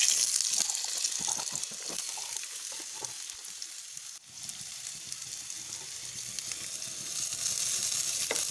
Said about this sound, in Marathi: त्यामध्ये थोडे तेल टाकून आता यात घालणार आहे बारीक चिरलेला कांदा